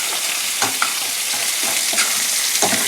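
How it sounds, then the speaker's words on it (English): Pork loin sizzles in a hot pan with a steady, hissing fry and a few soft pops and stirring scrapes, close and alone without talk. "My pork's cooking."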